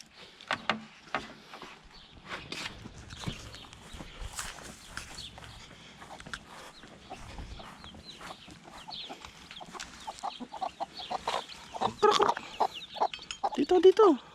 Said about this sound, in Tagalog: Kanin ang ibibigay natin sa kanila doon sa mga maliliit na bagong sisiw ko.